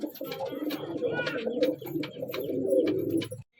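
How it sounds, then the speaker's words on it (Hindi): Pigeons cooing close by, several soft throaty coos overlapping in a continuous murmuring burble before stopping abruptly. "ये सारे चेक करो कबूतर।"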